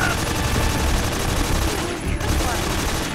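Rapid gunfire from a firearm in the video game Metal Gear Solid 3: Snake Eater: dense, sustained bursts of shots that carry on continuously, loud and close.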